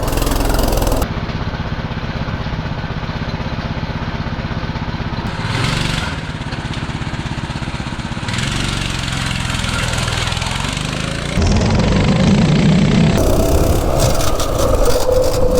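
A Baja Warrior minibike engine runs steadily and loudly on a test ride, a continuous buzzing drone that shifts in pitch as the throttle changes and grows louder near the end, with no talking.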